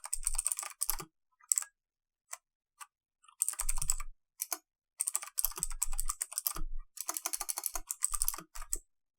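Computer keyboard typing comes in quick close bursts of clicky keystrokes separated by short pauses, with no voices.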